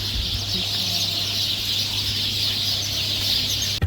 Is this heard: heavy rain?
no